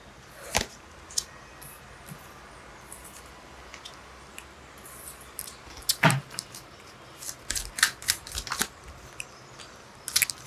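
Tarot cards are pulled and shuffled by hand, giving quiet scattered slaps, flicks and rustles, some close and crisp, irregularly spaced across a faint, otherwise still background.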